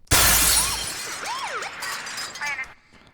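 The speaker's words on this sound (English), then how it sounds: "Of course, I add a crash sound effect" A sharp, loud shatter of breaking glass, a sound effect in a hip-hop beat, followed by tinkling, scattering shards that fade over a few seconds.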